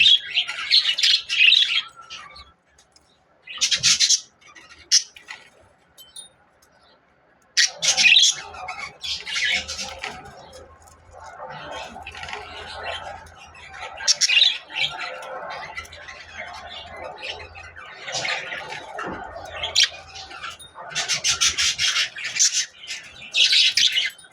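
Budgerigars, a newly paired couple kept with chicks in a clay-pot nest, chirp and chatter in bright, busy bursts, some loud and close, with short quiet gaps between flurries of warbling calls.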